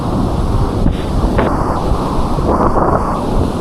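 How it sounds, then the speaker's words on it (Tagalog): Big ocean waves crashing on the shore, a loud continuous roar and rumble of surf mixed with heavy wind buffeting the microphone. "ang lalaki ng alon"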